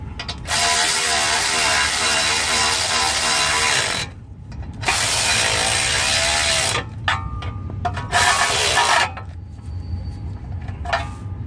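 A ratchet wrench tightens ball joint bolts on a 1999 Toyota Tacoma, giving long bursts of rapid, loud clicking that stop and start several times, close by and with no talk.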